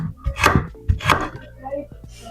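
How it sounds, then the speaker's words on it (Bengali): A knife cutting carrot into small cubes on a board, with a handful of close, crisp chops in uneven rhythm and a brief pause between bursts. "গাজর কিউব সাইজ করে দিচ্ছি"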